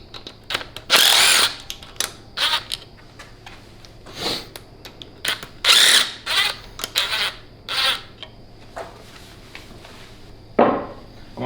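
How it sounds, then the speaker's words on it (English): A 1/2 inch impact wrench works on engine nuts on an aluminum 5.3 LS engine, firing in short, loud, irregular bursts separated by brief pauses, with clicks and handling noises in between. "Yeah, I have a 1/2 inch impact."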